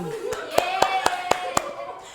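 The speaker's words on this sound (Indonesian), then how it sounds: "Tepuk tangan." A few hands clap in a slow, even rhythm in a classroom, about seven sharp claps close by, with a voice talking underneath.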